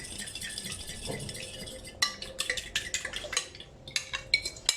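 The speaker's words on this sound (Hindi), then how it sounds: "आपने जो 2 प्याली दही है वो आपने अच्छी से फेंट लेना है" Yogurt is whisked in a bowl for a chicken biryani. Soft stirring gives way to rapid, irregular clinks and taps of utensil against the bowl, close and fairly quiet.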